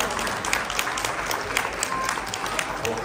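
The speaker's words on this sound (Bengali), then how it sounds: "জোরে হাততালি সবাই একবার।" An audience at a Bengali New Year and Rabindra-Nazrul Jayanti cultural celebration in America claps together in sustained, fairly distant applause filling the hall throughout.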